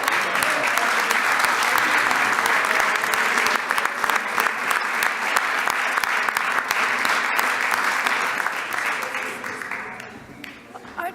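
Audience applause fills a city council chamber as a youth championship team stands to be honored during a proclamations meeting, dense steady clapping holding loud for about ten seconds before thinning at the end.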